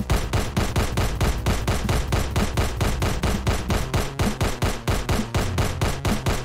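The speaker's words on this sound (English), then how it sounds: "But I seem to have an unlimited amount of bullets" Rapid, sustained gunfire comes from the shooter game Owinka Shooter: loud, evenly spaced shots, about four or five per second, repeating nonstop without any talking.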